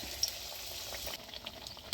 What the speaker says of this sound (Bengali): এইভাবে উল্টে পাল্টে ভালো করে লাল লাল করে ভেজে নিচ্ছি।